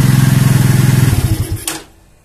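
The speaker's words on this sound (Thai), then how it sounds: "เดี๋ยวดับเครื่องครับดับเครื่องปุ๊บโวลต์ต้องดรอป" A Keeway Superlight 200 motorcycle engine idles with a steady, pulsing thump, then is switched off, the running note dying away into near silence after a brief rattle.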